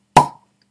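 The cork is pulled from a bottle of Glenturret 12 Highland single malt Scotch whisky, giving a single crisp, close pop that decays quickly into silence.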